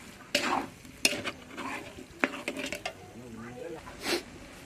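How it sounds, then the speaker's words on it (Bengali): Turmeric and chili powder being stirred and fried in a pan over a clay stove, with scraping stir strokes and sharp bursts over a soft sizzle, close and moderately loud, with a voice talking faintly at times. "হলুদ গুঁড়ো লঙ্কা গুঁড়ো দিয়ে আবার ভালো করে সব কিছুকে কষিয়ে নেব।"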